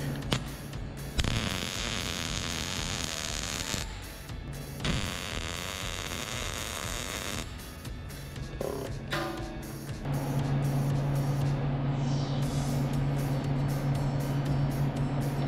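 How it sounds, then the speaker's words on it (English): Electric welding on cracks in a motorcycle shift lever, a steady crackling, buzzing arc in long runs separated by short pauses, with a constant hum underneath. "Now I just gotta weld up those cracks."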